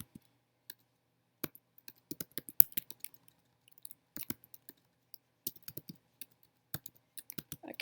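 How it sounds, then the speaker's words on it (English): Scattered keystrokes tap on a computer keyboard, close and quiet, in irregular bursts of clicks separated by brief silent pauses. "I cannot type today."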